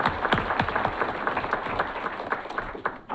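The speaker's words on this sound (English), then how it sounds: "let's give them a round of applause" Audience applause at a Greenbriar Association community meeting, a steady patter of many hands clapping close by that carries through the whole stretch with some faint voices underneath.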